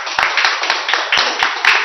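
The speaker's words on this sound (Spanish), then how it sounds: "Démosle un fuerte aplauso" Rhythmic clapping from a church congregation at a devotional service, sharp claps landing in a quick regular beat, loud and close, with no one speaking over them.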